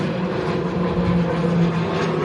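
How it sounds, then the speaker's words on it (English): A low-flying aircraft passes overhead on a stormy day in Los Alcázares, its steady engine drone loud and continuous throughout with no talk. "Flying a little bit low, some of them."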